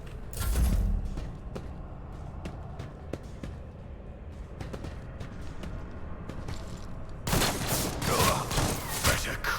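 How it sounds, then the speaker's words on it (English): Gunfire in the Warhammer 40,000 Rogue Trader video game, with a volley of shots early on, then sparse sharp cracks and clicks before a louder burst of fire near the end, with talk faintly underneath. "Let's just shoot"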